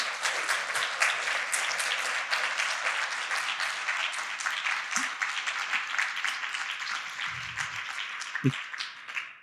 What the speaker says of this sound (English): if I wasn't holding this microphone, I'd be clapping vigorously right now